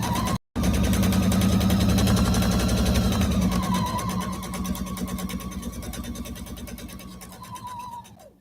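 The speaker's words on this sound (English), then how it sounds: "And now I am going to sew" A home sewing machine stitches a quilt block with a steady whirring motor and fast, even needle pulses that slow and fade near the end. No one talks.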